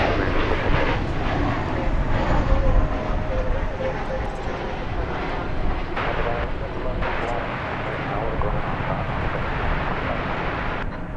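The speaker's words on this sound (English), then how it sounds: "we're going to look at flight 2197 coming in from Austin, Texas" A passenger airplane arriving at DFW Airport on a flight from Austin, Texas roars steadily and broadband, a loud sustained engine rumble across the whole clip, with talk faintly mixed beneath.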